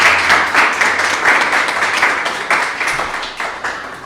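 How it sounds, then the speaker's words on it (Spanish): Audience applause at a seminar on emotions in music, greeting a newly introduced choir director, with broadband clapping sustained across the span, moderately loud and slowly fading. "Un aplauso, por favor."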